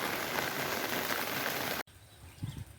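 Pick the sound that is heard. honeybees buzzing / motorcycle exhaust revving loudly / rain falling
rain falling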